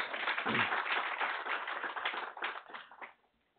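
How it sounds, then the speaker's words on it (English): Audience applause welcoming Mr. Kushal Thakur to a lecture meeting on crude diplomacy, a dense wash of many hands clapping steadily for about three seconds before thinning out and stopping. "I request you all to welcome him with a loud applause"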